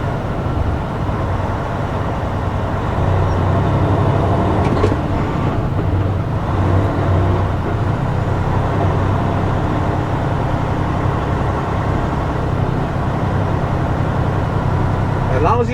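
A manual-transmission car holds fourth gear while rolling along, giving a steady loud engine and road drone with low rumble throughout; someone talks over it.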